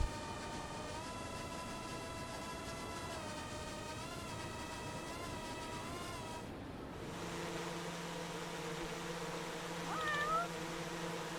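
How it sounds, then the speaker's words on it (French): A cat in the video game Judgment gives a long, drawn-out meow, faint against a steady background drone that shifts to a low hum, and a short chirp follows near the end. "Ouais, c'est bien mon minou."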